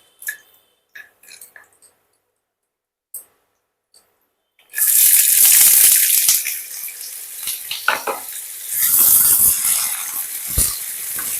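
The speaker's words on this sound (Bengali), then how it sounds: "আলুগুলো একটু লাল লাল করে ভাজবো" Cut potatoes hit hot mustard oil with dry red chili and black cumin in a pan, bursting into a loud, dense sizzle and crackle after a few quiet clinks and taps; the frying continues close and strong, with occasional stirring knocks.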